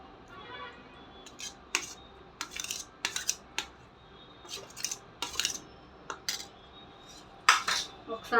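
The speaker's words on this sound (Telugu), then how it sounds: "ఆ చింతపండు వేసేసుకొని మళ్ళీ ఒకసారి దంచుకున్నాము" A pestle pounds tamarind and tomatoes in a mortar for peanut chutney, giving a string of sharp, irregular clinks and knocks over quiet kitchen background.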